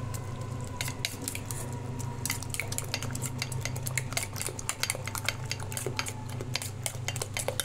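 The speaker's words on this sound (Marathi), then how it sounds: "आता आपण मसाला घालूया, हळद, आणि याला चांगला मिक्स करून घेऊया." Two eggs with turmeric and spices being beaten in a bowl with a utensil, rapid close clinking and tapping against the bowl over a low steady hum, continuous and without talk.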